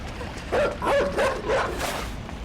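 A dog in the video game Inside gives a run of four quick, yelping barks over a dense, rumbling game soundscape, fairly close and prominent.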